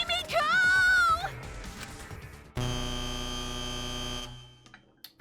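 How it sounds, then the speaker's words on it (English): A buzzer sounds as a countdown timer hits zero in the video game Danganronpa V3: Killing Harmony, a loud sustained electronic drone lasting almost two seconds before cutting off, after some earlier game music. "Right when the timer hit 0, the buzzer went off."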